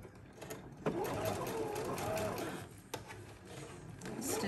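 A sewing machine top stitching a silk scrunchie gives a steady mechanical whirr with rhythmic needle clatter, close and fairly quiet, with brief knocks as it starts and stops.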